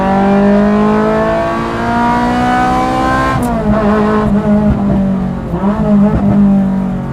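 Ferrari 355 engine revving hard, a loud, high-pitched V8 wail climbing steadily, then dropping and flaring again in several quick blips near the car, with no talking.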